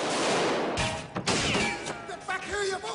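Movie gunfight special effects: several sharp gunshot bursts and crashes, with ringing debris, loud and close.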